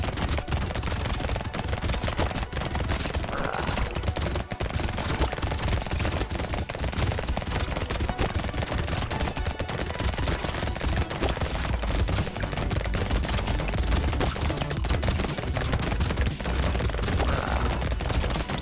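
Laser guns and SMGs in Brotato fire nonstop in a dense, rapid machine-gun clatter that runs steadily at constant loudness for the whole stretch, with no talk over it.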